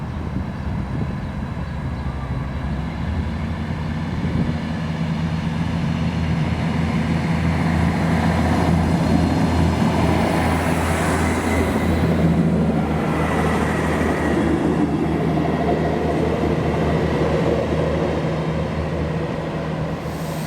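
A Class 158 diesel multiple unit departs Edinburgh on the Waverley to Glenrothes service, its engine drone and rolling rumble building and holding loud and close for about twenty seconds, with no talk.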